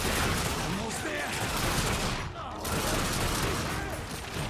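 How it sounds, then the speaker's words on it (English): Sustained rapid gunfire from the video game The Darkness II rattles almost without pause, one brief lull midway, with voices talking over the shooting. "That was pretty awful shooting."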